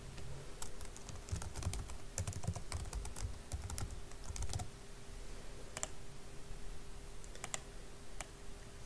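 Fingers tap out a burst of typing on a computer keyboard while editing an infographic, with quick clustered clicks and pauses between runs of keystrokes, close and fairly quiet.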